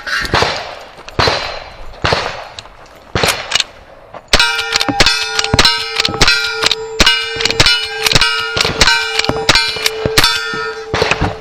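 Rifle shots crack at a cowboy action shooting match, a few sharp reports followed by a rapid string of loud shots, each ringing steel targets with a bright sustained clang.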